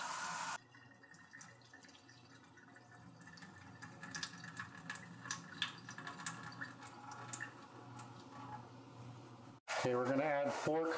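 Wild rice is rinsed by hand in a saucepan of water, with soft sloshing, scraping and trickling sounds that continue steadily and close up, followed by a voice at the end.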